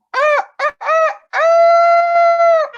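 A human voice imitates a chicken, giving a few short clucking calls followed by one long drawn-out squawk, loud and close with no other sound around it.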